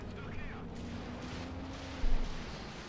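Stuka rocket artillery firing in a Company of Heroes 2 battle, a steady rumbling barrage with a sharper blast near the end, heard faintly under a commentator's voice.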